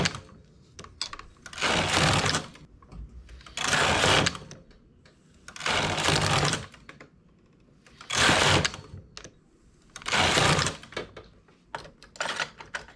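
A knitting machine forms stitches on a unisex collar, its carriage sweeping across in five loud, whirring passes of about a second each, separated by quieter gaps with light clicks and handling noises.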